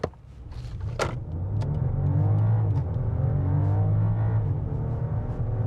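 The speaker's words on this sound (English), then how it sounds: "You do hear it thrumming away under the hood" A 2024 BMW 750e's engine hums low and steady as it accelerates, the thrum swelling then holding, with a few faint clicks and rattles inside the cabin.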